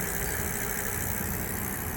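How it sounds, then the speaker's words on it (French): The rear hub motor of a Vélec R48 electric bike spins the wheel on throttle alone while the chain stays still. It makes a steady, even whirring hum for a couple of seconds, with no voices. "c'est la roue seulement qui tourne parce que le moteur roue est contrôlé directement par l'accélérateur"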